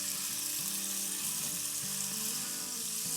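Garlic paste and softened onions frying together in a pan, with a steady close sizzle and occasional stirring scrapes throughout, no voices.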